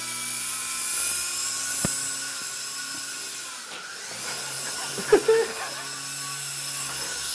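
A small remote-control helicopter whirs indoors with a thin, high motor whine and rotor buzz throughout, punctuated by a few sharp knocks and clatters near the end, no voices heard.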